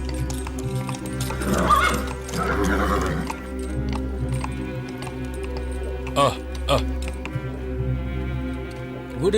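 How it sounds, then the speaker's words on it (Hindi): A horse neighs loudly nearby, with hoof clops and shuffling around it, while people talk over a steady low hum in the background. "क्या आप अपने घोड़े को यहाँ रखना चाहेंगे?"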